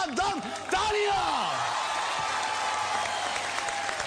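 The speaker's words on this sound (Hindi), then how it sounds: "तालियां!" A television show studio audience bursts into loud applause and cheering, with clapping and a few whoops and shouts over it that settle into steady clapping.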